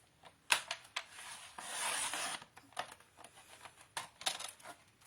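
Thin strips of scrapbooking paper cut to 3/8 inch with a paper cutter, heard as quiet close rasping slides and sharp clicks in an uneven rhythm, with one longer scraping stroke.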